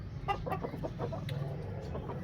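An imported Aseel Burmi rooster clucks in a short run of soft, close calls over a steady low background hum, with no talking.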